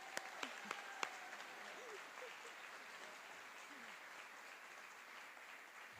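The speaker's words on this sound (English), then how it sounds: "Big round of applause for Devin!" Applause at a high school academic awards ceremony as a student is honored, a steady wash of distant crowd clapping in a large room, with a few sharp taps near the start.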